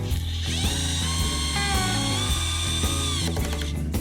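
A power drill drives a screw tight during bathroom fitting, whining in short bursts with rising and falling pitch and a stuttering rhythm as it seats the screw, loud and close with no talk.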